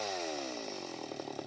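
A chainsaw cuts into a tree, its engine droning steadily and loudly with a falling pitch as the chain bites, close by and alone without talk.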